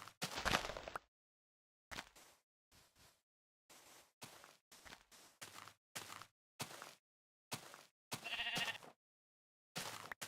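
Sheep bleat repeatedly in a blocky Minecraft-style game, short separate calls spaced across the stretch with gaps of silence, fairly close and clear, with no talking.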